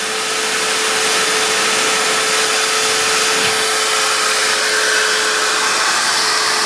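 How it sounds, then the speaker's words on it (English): A Hoover vacuum cleaner pulls air through a diesel particulate filter (DPF) taken off a car, making a steady, loud, close whooshing roar with a constant whine that holds for the whole stretch. "by the sounds of the Hoover and the way that is pulling on my hands"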